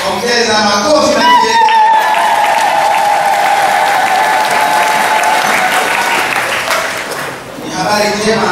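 A church congregation at an Easter service breaks into loud, continuous applause lasting most of the stretch, a sustained voiced tone running through it before the clapping thins and voices return near the end.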